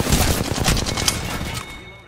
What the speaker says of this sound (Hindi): मैं मारा चार गोली मार के मार दिया